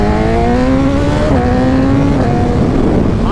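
BMW S1000RR 2021 motorcycle converted into a drag bike, its engine revving loudly and continuously close by, pitch rising and dipping in quick shifts with no voices.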